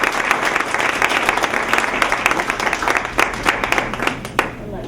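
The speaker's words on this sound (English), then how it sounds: "please, everybody, give a big applause to welcome Dr." An audience at a health and spirituality talk applauds to welcome a speaker, a full steady wash of clapping with sharper individual claps standing out near the end.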